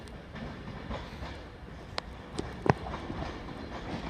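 Train hauled by a locomotive in Alstom special livery, number 104, rolling past at a distance, a low rumble with scattered wheel clicks and a few sharp metallic squeals, with no talking.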